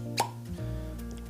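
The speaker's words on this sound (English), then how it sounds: "Love the sound of a cork popping out of a bottle" A cork pops once from a bottle of barrel-aged Negroni, a short, sharp plop near the start, followed by a quiet low hum.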